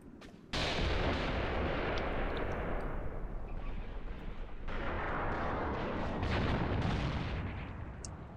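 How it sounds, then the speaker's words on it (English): Incoming artillery fire in the Graviteam Tactics war game: a sudden heavy blast opens a sustained, loud rumbling roar of shelling with overlapping booms that rolls on and slowly fades. "There's some artillery of some description coming in here."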